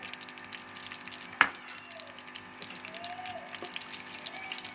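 Garam masala frying in half a cup of oil in a pot for white beans, a steady close sizzle and bubbling with one sharp clink of a utensil partway through, no talking.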